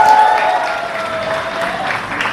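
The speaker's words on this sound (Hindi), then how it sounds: "इसलिए आपके लिए एक बार जोरदार ताली।" Audience applause at a press meet for a film's success, a steady sustained clapping from a crowd with a faint voice or tone near the start.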